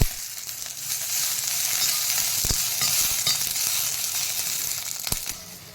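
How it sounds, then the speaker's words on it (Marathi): Oil sizzles and crackles steadily in a pan as green chilies roast, with occasional scraping stirs and taps of a utensil. "थोडंसं अगदी चमच्यावर तेल घालून मिरची भाजून घ्यायची"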